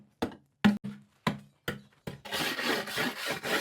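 A metal wire brush strikes and scrapes a wooden stool several times in quick knocks, then settles into a continuous rough scrubbing up close.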